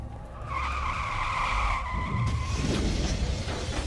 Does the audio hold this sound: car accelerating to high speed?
yes